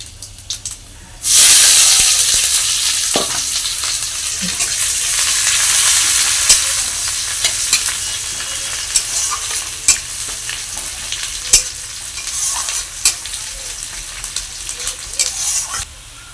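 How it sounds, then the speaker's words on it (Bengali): Chopped onion hits hot oil already tempered with bay leaf and panch phoron for a Bengali katla fish head and pumpkin ghonto, setting off a loud burst of sizzling that settles into steady frying with occasional stirring clicks. "এবার পেঁয়াজ কুচিটা দিয়ে দেবো।"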